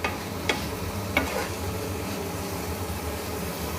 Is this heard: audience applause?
no